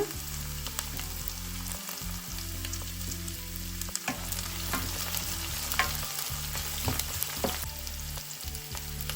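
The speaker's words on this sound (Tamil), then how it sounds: "பெருஞ்சீரகம் பொரிஞ்சிட்டது வெட்டி வச்ச வெங்காயத்தை சேர்க்குறேன் கொஞ்சம் கருவேப்பில்லை" Fennel seeds, chopped onion and curry leaves fry in hot oil for a Tamil sundakkai stir-fry, giving a steady close crackling sizzle with scattered pops and low background hum, no voices.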